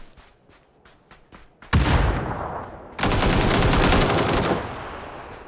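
Automatic gunfire from hip-fired weapons in PUBG, several quick separate shots followed by two long, loud sustained bursts at close range, with no talking.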